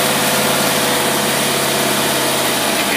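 A car engine fitted with a Carter AFB carburetor runs at a steady, even idle, a close and loud drone that holds unchanged for a few seconds with no voices.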